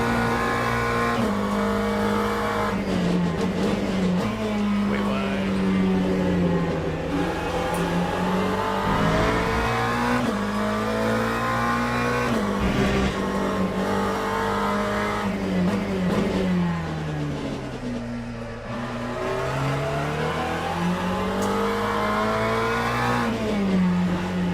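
McLaren GT race car engine in Le Mans Ultimate, a loud continuous drone that climbs and falls with gear changes and throttle, close and unbroken for the whole stretch without talk.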